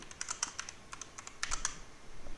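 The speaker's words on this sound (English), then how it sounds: "Is everybody freaking typing?" Keyboard typing in a room of people on computers, a quiet run of clicky keystrokes in short bursts with brief pauses between.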